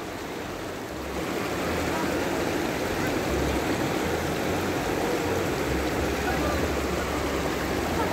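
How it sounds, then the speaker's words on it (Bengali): Flowing river water at a picnic spot in Himachal, a steady broadband rush that swells after the first second and holds loud and continuous throughout, with no talk over it. "তো গাইস এই যে জল"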